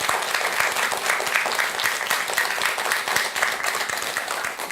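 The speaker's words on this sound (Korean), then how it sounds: "박수 한번 더 쳐주시죠" An audience at a Buddhist lecture breaks into applause, a dense, loud and steady wash of many hands clapping together that holds for several seconds, with no talking.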